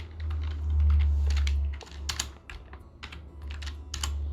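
Rapid irregular keystrokes on a computer keyboard while code is being typed, close and clear over a low steady hum, with bursts of clicks in uneven clusters.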